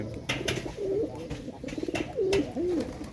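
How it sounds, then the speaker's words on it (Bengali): A pet pigeon coos close by in a series of soft, rolling calls with short pauses between them, alone without any voices. "এই হলো আমাদের পোষা প্রাণী কবুতর।"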